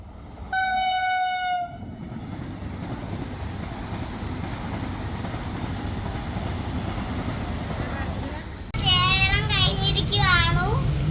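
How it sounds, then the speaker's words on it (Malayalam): A train horn blares briefly at Kasaragod railway station, then a steady rumble of rolling carriages continues before the horn sounds again, wavering and loud, with faint voices nearby. "ഇത് ഏറ്റവും ലാസ്റ്റത്തെ ജില്ലയായ നമ്മുടെ കാസർഗോഡാണ് ഈ റെയിൽവേ സ്റ്റേഷനാണ് ഈ കാണുന്നത്"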